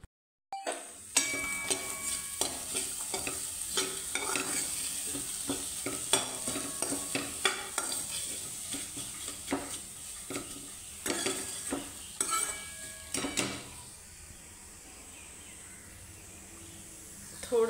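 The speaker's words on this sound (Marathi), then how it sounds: "मिक्स करून घेऊया." A jaggery mixture is stirred in a pan, giving continuous scraping and swishing strokes with a soft sizzling bed underneath, close and steady for most of the stretch before easing off near the end.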